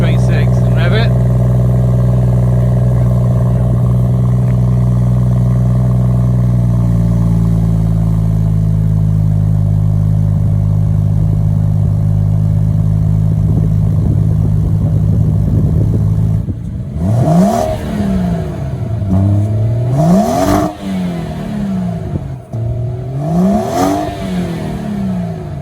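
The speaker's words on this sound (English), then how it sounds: "And here is the straight 6. And rev it." Straight-six car engine idling steadily with a low drone, then revved several times in rising and falling sweeps toward the end, close and loud.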